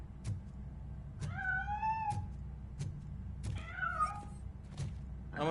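Cat in RoboCop: Rogue City meowing twice, drawn-out plaintive cries close by, amid soft thumps and low background hum, with no voices.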